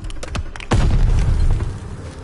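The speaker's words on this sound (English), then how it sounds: "Grenade, get down!" A grenade blows up in Call of Duty: Vanguard, one loud, close boom with a long rumbling tail after a few faint gunshots, with no voices over it.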